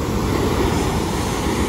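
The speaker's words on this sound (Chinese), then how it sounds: "这里的海浪超大哎，哇，超级壮观。" Large ocean waves surge during an approaching typhoon, a loud continuous roaring wash of surf mixed with wind buffeting the microphone, with no talk.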